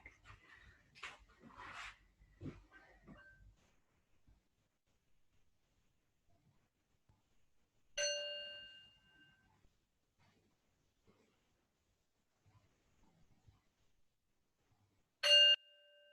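A meditation bell rings twice during a Qi Gong session, each strike a clear bright tone that fades over a second or two, well apart in a quiet room after some soft shuffling.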